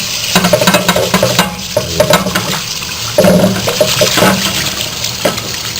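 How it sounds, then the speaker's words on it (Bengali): Tap water runs loudly into a pot of fried rice for khichuri, a close, gurgling splash that surges and dips in uneven bursts. "নিয়ে ট্যাপে পানি দিই"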